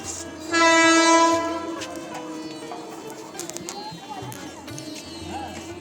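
A train pulls into a station with a loud horn blast near the start, followed by the rumble and clatter of the cars rolling in. Voices and station bustle run underneath.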